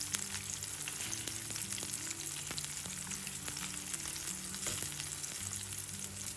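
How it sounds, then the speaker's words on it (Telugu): Egg snack frying in a pan, a constant loud sizzle of hot oil with occasional small pops and a low tonal hum underneath, close and steady with no talking. "2 వైపులో కూడా ఇప్పుడు మనం ఎర్రగా వేయించుకోవాలి"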